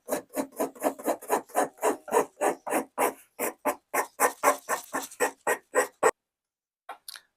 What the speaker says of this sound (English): using this file, I'm going to start rounding these edges